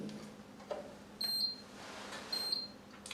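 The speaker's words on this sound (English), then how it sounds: "you'll notice that it's beeping several times and it's flashing red." Two short, high electronic beeps about a second apart from a Tensor smart card reader as a card is presented, fairly faint over a low background hum.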